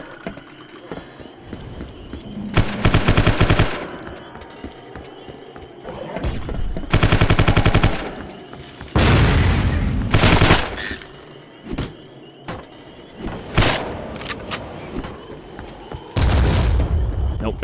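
Enemy gunfire in the video game Vivisector: Beast Within comes as loud, close bursts of rapid shots and booming blasts that start and stop abruptly, with talk in between.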